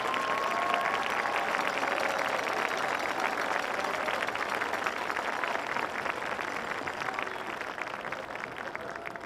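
A crowd at a community showcase applauds its volunteers. The clapping is a steady, many-handed patter that runs unbroken across the whole span, moderately distant and even in level, with a faint tone and no speech.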